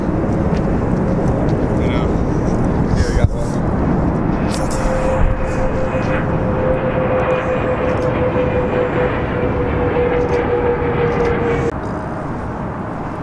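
Airplane flying over near an abandoned bridge, a loud continuous roar with a rising whine through the middle, a sharp click partway in and the sound easing slightly near the end.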